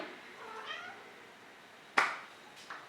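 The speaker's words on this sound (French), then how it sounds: "Elle fait que miauler, j'en ai marre." A cat meows softly, a drawn-out plaintive call, followed by two short sharp taps nearby.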